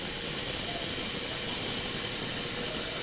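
Steady loud machine hiss and grind from equipment cutting laterite building stones out of the ground into uniform blocks, a continuous broadband roar with no breaks or rhythm, close and unchanging throughout.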